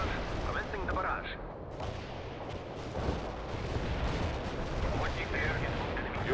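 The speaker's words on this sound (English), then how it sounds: "Launching an artillery barrage." A video game artillery barrage in World in Conflict, with dense overlapping booms and rumbling impacts rolling continuously at moderate loudness under radio-style voices.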